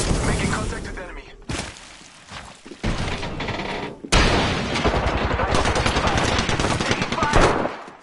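Bursts of automatic gunfire in a video game firefight in Apex Legends, loud and close, with rapid rattling volleys that start and stop over several seconds and a sharp sustained burst in the second half.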